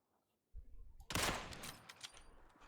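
Gunshots in PUBG, a quiet opening followed by a muffled shot and then a louder rapid burst that trails off into lingering echoes.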